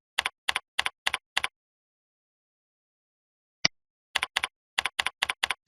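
Keys typed on a computer keyboard while entering a camera's username and password: two quick bursts of crisp, evenly spaced keystrokes separated by a pause with one lone tap, close and clear.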